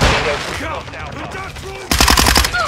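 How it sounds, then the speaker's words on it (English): Gunfire in a Call of Duty Modern Warfare 2 match, quieter rattles and shouted callouts giving way to a loud, close burst of rapid automatic shots. "Taking fire! Taking effective fire!"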